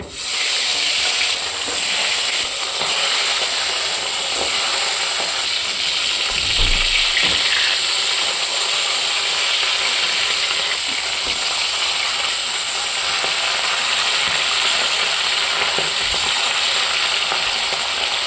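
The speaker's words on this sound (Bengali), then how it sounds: "তেলটা এখানে ভালো করে গরম করে নিয়েছি এবার ইলিশ মাছগুলো দিয়ে দেবো" Hilsa fish frying in hot oil gives a loud, steady, close sizzle that continues throughout, with occasional soft stirring knocks and no talking.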